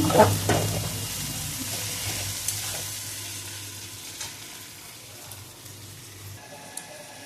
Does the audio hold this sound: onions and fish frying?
yes